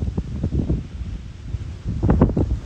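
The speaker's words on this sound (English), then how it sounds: "Man, it's real windy, dude." Strong wind buffets an outdoor microphone in rough, gusting rumbles that swell and ease, loudest near the end, during a follow-along burpee workout with no speech.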